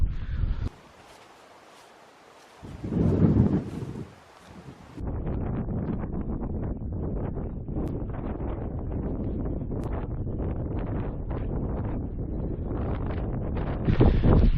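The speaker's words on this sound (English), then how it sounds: "It's very windy." Strong wind on a remote beach on the west coast of Scotland buffets the microphone in heavy, continuous roaring gusts, with a brief lull near the start before the rumble returns and holds steady.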